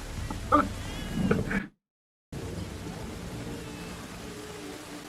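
Steady rain falls in a scene from the TV series Dark, a soft broadband hiss with a few faint higher tones near the start, cut off by a brief moment of silence before the downpour resumes evenly.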